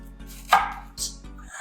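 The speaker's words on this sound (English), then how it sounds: "Cut 1 entire onion." A knife chops an onion on a board with a few distinct, close, crisp thuds spaced apart, over a steady hum and with no talking.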